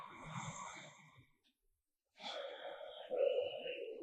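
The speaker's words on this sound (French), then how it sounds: "on va prendre une respiration de transition" Deep transition breath taken in a Kapalabhati pranayama breathing exercise: an audible breathy exhale, a pause of near silence, then a longer, louder rushing inhale, heard close and alone.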